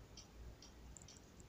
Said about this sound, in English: that's because we recently got a cuckoo clock